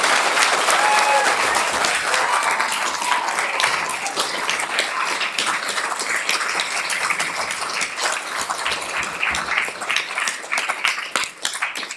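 An audience at a regional council meeting breaks into sustained loud clapping and hooting, a dense wash of applause that carries on for the whole stretch with only slight dips.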